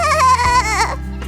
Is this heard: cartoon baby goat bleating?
yes